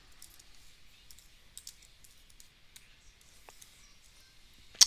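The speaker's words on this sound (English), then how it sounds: "So I'm typing them in there." Light, sparse keystrokes on a computer keyboard as short IDs are entered, faint scattered clicks in irregular bursts over a quiet background, ending in one sharper tap.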